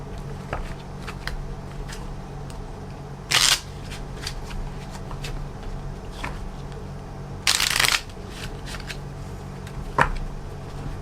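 Tarot cards shuffled in two short, dense riffling bursts, close and crisp, standing out above a steady low background hum with a few faint taps between them.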